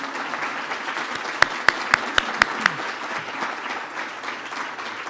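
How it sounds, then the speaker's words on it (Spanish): Audience applause for a guest author at a Diario de Navarra working breakfast, a steady mid-level wash of clapping with a few sharper, louder claps standing out near the middle. "Un aplauso, por favor"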